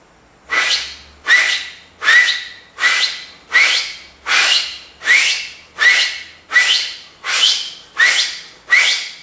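A run of about eleven sharp, breathy finger whistles blown in a steady rhythm, each a quick rushing burst with a shrill tone, close and fairly loud.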